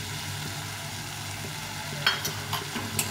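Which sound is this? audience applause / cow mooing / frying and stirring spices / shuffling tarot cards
frying and stirring spices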